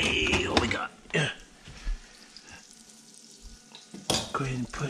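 Pieces of black drum fish fry in hot oil, a hissing sizzle broken by stirring and clinks of a pan, with a person speaking briefly over the cooking.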